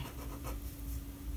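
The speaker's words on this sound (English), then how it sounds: "Let's see if purple will erase." Soft scratchy rubbing against paper as purple Pilot Frixion fineliner ink is rubbed away, a few brief strokes close by over a low steady hum.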